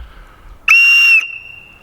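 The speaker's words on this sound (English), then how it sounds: "A big storm whistle like this will give you a little bit better chance," A large storm whistle blown outdoors as a bear deterrent gives one loud, sharp, shrill blast of about half a second. The sound is clear against quiet surroundings.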